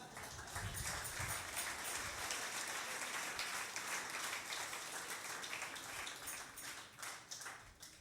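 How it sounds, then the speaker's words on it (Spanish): Congregation applause offered to God during a church sermon, a sustained wash of many hands clapping for about eight seconds at moderate distance, with almost no talk. "Denle una ofrenda de aplauso al Señor."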